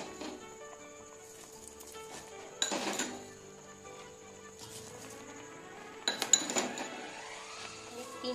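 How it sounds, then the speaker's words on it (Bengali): Sugar being stirred into thick mawa payesh in a pot, two short bursts of spoon scraping and clinking against the metal, close but fairly soft, over a quiet steady musical backdrop. "এবার আমি এর মধ্যে চিনি অ্যাড করব।"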